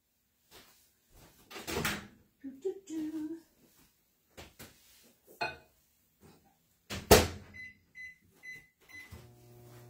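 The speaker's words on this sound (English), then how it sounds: "So we put this in the microwave uncovered." A microwave oven is set to heat the mixture for scalloped potatoes in a kitchen: scattered clunks and a door shutting, then a run of short keypad beeps and the low hum of the oven starting.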